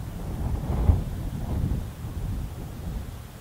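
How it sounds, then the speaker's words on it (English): Coastal wind rises and falls in steady gusts that buffet the microphone with a low roar, while faint rumbling lingers underneath. "And that wind's picking up."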